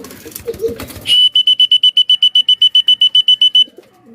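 A person whistles to call pigeons, a shrill, steady whistle repeated in quick rapid pulses for a few seconds, following a brief burst of murmured voices and rustling.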